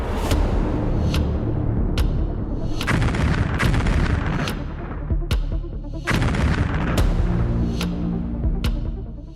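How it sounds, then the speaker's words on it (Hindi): Long-range rockets fire in a Chinese PLA weapons display: sharp, loud blasts, about a dozen, come in quick irregular succession over a continuous rumbling roar. "ताबड़तोड़ लॉन्ग रेंज के रॉकेट्स दागे गए हैं"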